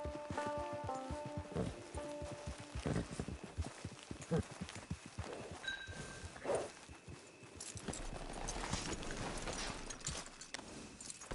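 Horse hooves clip-clop at a steady walking rhythm in the open-world game Red Dead Redemption 2, close and clear over game music and ambient sound.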